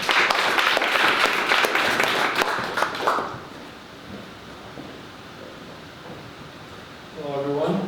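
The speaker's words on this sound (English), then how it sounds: "So, a round of applause for Isaac." An audience at a startup pitch day event claps in a dense burst of applause that fades out after about three seconds, leaving quiet room noise.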